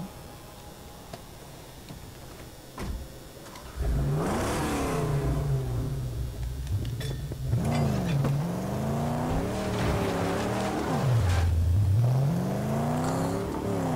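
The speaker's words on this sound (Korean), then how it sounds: "차 소리 좋네요" Car engine in the Mad Max video game revs up and down repeatedly, loud and close, with rising and falling pitch sweeps as the vehicle accelerates and shifts.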